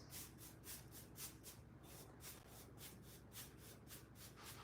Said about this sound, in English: we're gonna spread that paint out as far as it goes